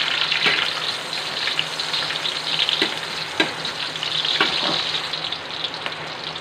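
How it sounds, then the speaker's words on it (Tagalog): Onion sautéing in hot oil in a pan for Filipino beef mechado, a steady close sizzle with faint clicks of stirring and no voices. "Igisa natin itong onion"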